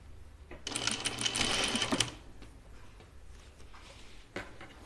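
A sewing machine stitches a seam line on a Kalle shirtdress, running in one steady, close burst of about a second and a half before stopping, with faint handling noises after.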